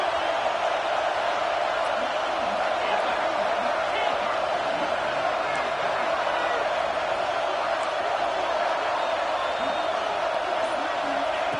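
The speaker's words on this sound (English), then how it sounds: "Third down, and the crowd really getting into it" Steady crowd roar fills a football stadium during a Ducks game on third down, a dense, continuous wash of cheering that holds loud and even throughout with no breaks.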